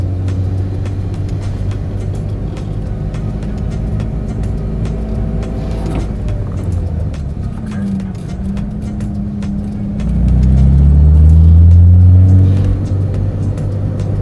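BMW M3 E36 engine running loud and close with a steady rumble, then the pitch shifts and the revs climb as it goes into second gear.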